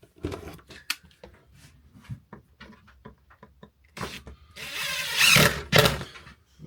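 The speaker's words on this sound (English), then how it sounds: "And we can then attach our screws." Screws are driven into a rustic wooden Christmas sign, with short knocks and handling sounds giving way to a louder, sustained buzzing burst from the driver near the end, close and fairly loud.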